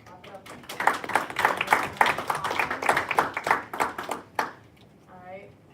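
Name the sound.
audience clapping after a student senate motion passes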